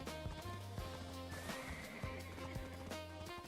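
A horse neighs in the online game Black Desert Online, a whinny heard over a busy backdrop of game music and sound effects at fairly low volume.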